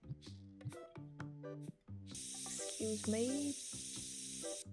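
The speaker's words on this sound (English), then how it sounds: "someone needs the spray" A spray bottle hisses in a card shop simulator video game, a steady bright spray lasting a few seconds over background music, with a person speaking briefly.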